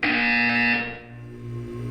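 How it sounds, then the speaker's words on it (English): Buzzer from the video game Portal 2, a single loud electronic tone that holds for under a second and then cuts off, leaving a low hum. "You will hear a buzzer."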